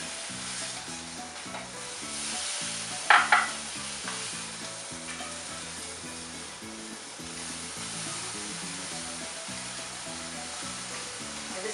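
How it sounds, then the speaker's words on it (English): Biftekia meat patties sear steadily in a hot pan, a continuous close sizzle with faint stirring, broken around the middle by two brief sharp clatters. "We're just getting it nice and seared on all sides."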